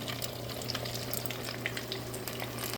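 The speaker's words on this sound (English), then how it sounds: "So you want to let that okra fry for at least a good 8 to 10 minutes." Breaded okra deep frying in a fryer, a steady, even bubbling sizzle that carries on without a break from start to finish, with no voices over it.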